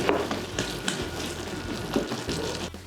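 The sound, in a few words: asparagus cream sauce simmering with butter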